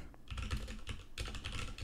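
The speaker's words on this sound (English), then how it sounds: "I was typing in Tommy Edman" Rapid clicking of computer keys, a burst of steady typing with a short pause midway, close and fairly loud, no voices.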